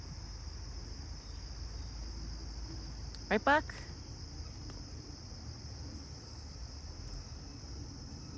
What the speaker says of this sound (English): If it's two crickets, then I'll be like, okay, it's hard to find it.